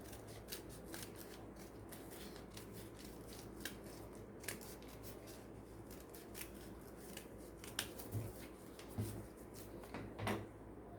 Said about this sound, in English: Then fold it and cut on the same line.